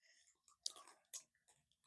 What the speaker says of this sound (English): That was a crunchy one.